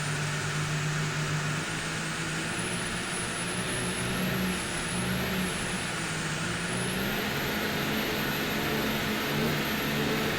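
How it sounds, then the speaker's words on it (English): A diesel engine drives the P3 class powerboat Taboo at racing speed, giving a loud, steady, droning roar with a high whine that rises and wavers over the top, heard close and continuously without talk. "Diesel's got quite the funny sound, but they always run strong, well, and very well in Taboo"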